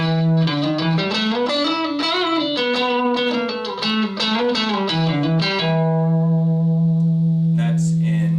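An overdriven electric guitar plays a gritty, distorted melodic phrase up close, then rings out on a sustained chord that slowly decays, with a faint scrape at the end.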